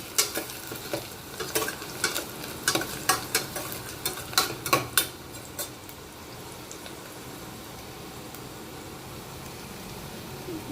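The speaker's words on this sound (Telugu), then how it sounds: "ఆనియన్స్ వేగాయి ఇప్పుడు మనం జీడిపప్పు వేసుకుంటున్నాము" Cashews frying with onions in a pan: a spatula stirs in a quick run of a dozen or so scraping strokes over about five seconds, then the pan settles into a steady, close hiss of sizzling oil.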